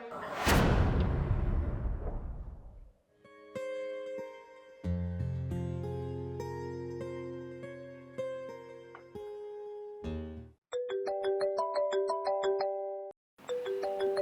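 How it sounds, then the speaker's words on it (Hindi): A melodic electronic ringtone plays loudly after a brief whooshing sweep, looping its chiming tune with short pauses between phrases. "ये किसका फोन है?"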